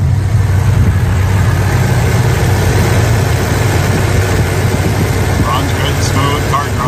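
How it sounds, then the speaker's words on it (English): A muscle car engine idling steadily with a deep low rumble, loud and close, continuing evenly throughout with some faint higher sounds near the end. "Let's take a listen to the engine."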